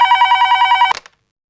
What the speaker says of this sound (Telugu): అదిగో మళ్ళీ ఫోన్